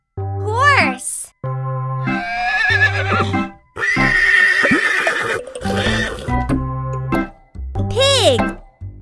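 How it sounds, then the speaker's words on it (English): A horse neighs twice with loud, shaky whinnies, between them a bouncy children's nursery tune with plucky music and a voice. "Horse."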